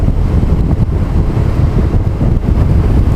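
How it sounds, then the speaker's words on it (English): Strong wind roaring across the microphone outdoors in a New England town, a dense, loud, unbroken rush with rapid gust fluctuations and no voices. "And the wind is awesome."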